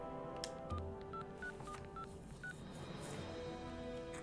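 Telephone keypad dialing in a South Park video game: a quick series of short touch-tone beeps, fairly close and clear over a faint game background, with no talking.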